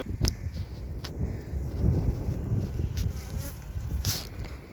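Honey bees buzz close around a newly delivered five-frame nuc, individual insects zipping past the microphone over a low wind rumble, with no talking.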